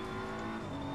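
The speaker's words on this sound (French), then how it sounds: "Déjà un drift." BMW M4 GT3 race car drifting in Assetto Corsa Competizione, a steady loud engine drone with tire squeal held throughout the short moment.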